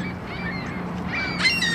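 A few honking goose calls rise near the end over a steady outdoor hum in Toronto, with faint bird chatter earlier; no one speaks.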